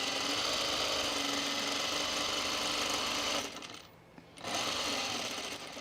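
A sewing machine stitching pin tucks on double gauze fabric, a loud steady mechanical hum that pauses briefly partway through, then resumes.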